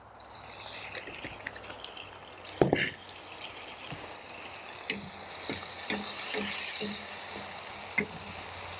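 Browning onions sizzle in a pan as soy sauce goes in, with a sharp splash and clatter followed by a swelling hiss of frying and scattered pops, close and steady.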